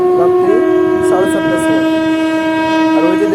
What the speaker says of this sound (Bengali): নবদ্বীপ ধাম বালুঘাট বা মালদা টাউন এক্সপ্রেস দেখতে পাচ্ছ তোমরা খুব সুন্দরভাবে আজিগঞ্জের এক নম্বর প্ল্যাটফর্মে নিচ্ছে